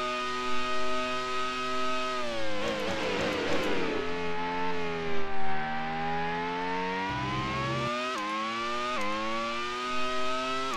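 Engine note of a McLaren Formula One car in the Grand Prix 3 racing game, a wet race at the A1-Ring in Austria: a loud, sustained high-pitched whine whose pitch climbs and drops with gear changes and throttle.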